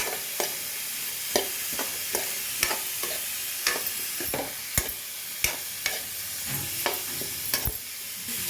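Boiled cauliflower is stirred into fried onions in a pan, with steady sizzling under repeated sharp scrapes and clacks of a spoon against the pan, close and alone.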